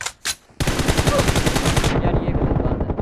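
Rapid automatic machine gun fire in a shooting video game, a loud sustained stream of shots after two brief opening bursts.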